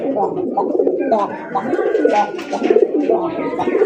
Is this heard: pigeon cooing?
yes